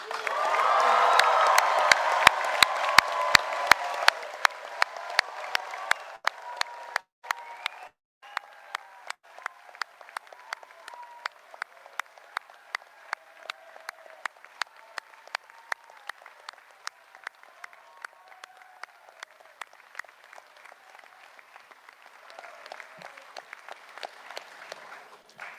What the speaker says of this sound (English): I would like a full house of cheering and whooping, please.